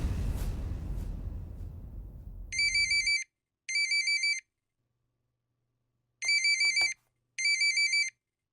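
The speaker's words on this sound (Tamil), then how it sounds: "மேடம்க்கு ஃபோன் பண்ணிடுவோம்." An outgoing phone call rings out in four repeated electronic ringtone bursts after a brief low rumble fades, with silent gaps between each pair of rings, clear and close with no talking.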